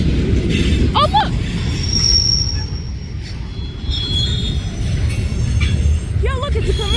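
A train rolls past with steady, loud rumbling rail noise throughout, punctuated by high wheel squeals near the start and end, while people talk nearby.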